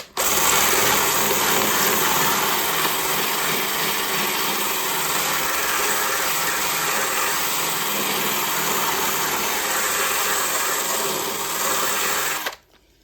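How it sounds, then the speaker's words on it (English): A steady, high-pitched whine of a wire wheel grinding rust off the metal of a Mazda MX-5 NC Miata continuously at close range for several seconds, then cutting off abruptly. "If you have a wire wheel, you can get some of these little sanding wheels."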